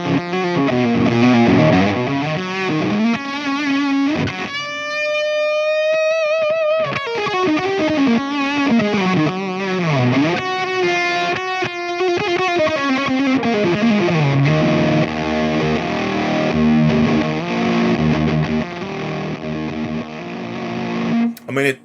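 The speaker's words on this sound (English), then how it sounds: "Fuzz face with active pickups." Electric guitar with active pickups played through a Hello Sailor Effects Xenomorph fuzz pedal, giving thick, sustained distorted notes and sliding bends with a compressed attack, loud and close throughout.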